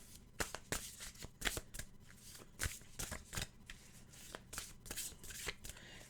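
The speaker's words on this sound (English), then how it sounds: "let's give it a fast shuffle or two." A tarot card deck from the Animal Guides set is shuffled quickly and close up, giving a rapid series of crisp riffling bursts and flicks in an irregular rhythm, with no talking.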